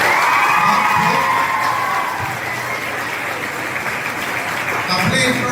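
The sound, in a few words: audience applause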